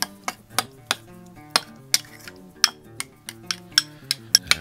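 A utensil stirs hot sauce through breakfast burrito ingredients in a bowl, giving a steady run of sharp clinks and taps against the side, close and clear with no talk.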